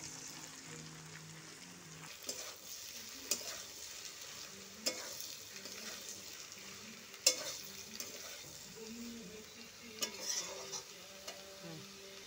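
Chopped prawns fry with browned potatoes in a pan, making a faint, steady sizzle broken by periodic scraping and tapping of a stirring spoon against the pan.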